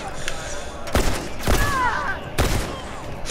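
Gunfire in The Last of Us Remastered multiplayer, three sharp loud shots spaced about half a second to a second apart, with faint game sounds between them.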